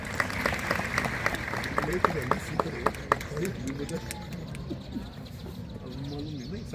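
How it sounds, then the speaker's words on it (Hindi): An audience at a school science day event claps, a burst of sharp handclaps that rises then thins out over a few seconds, with voices talking over the room noise. "चलने के लिए जोरदार ताली बजाओ पहले।"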